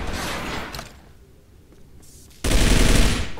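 P90 gunfire in the online shooter Arctic Combat: dense, continuous automatic bursts, loud and close, a sustained spray at the start, a quieter lull, then another heavy stream of rapid fire.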